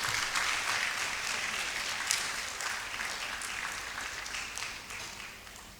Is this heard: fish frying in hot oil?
no